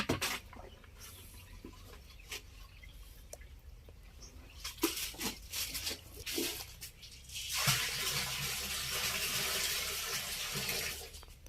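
A homemade liquid fertilizer brewed from neem, datura, tobacco, chili and garlic is poured into a container, starting with scattered drips and splashes and then building into a continuous watery gush near the end, fairly faint and close.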